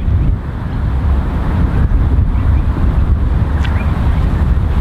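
Strong wind blows across an open golf course, a continuous loud low roar buffeting the microphone with no clear breaks.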